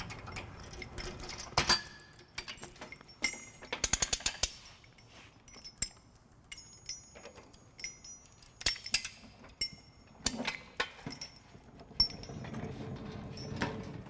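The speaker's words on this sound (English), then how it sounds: "we have our torque wrench here with our 19mm socket, and we're just going to go ahead and torque all 6 bolts down" A torque wrench with a 19mm socket tightening six trailer hitch bolts on a 2013 Scion xB: scattered metallic clicks, clinks and ratchet snaps, close and sparse, with quiet gaps between them and no talking.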